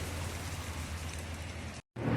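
Steady rain pours down during a thunderstorm in Alabama, a dense continuous hiss that cuts out briefly near the end before returning louder.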